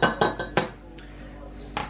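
Dishes being rinsed in a kitchen while peanut butter cookies are made: a quick run of close clinks and clatters of crockery and cutlery, then a brief rush of running water.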